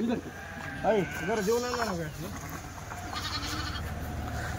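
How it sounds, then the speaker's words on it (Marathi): A Kathiawari sheep bleats loudly nearby in a few wavering calls, followed by steady outdoor noise and faint background sounds. "हे बघा मेंढ्यांची क्वालिटी"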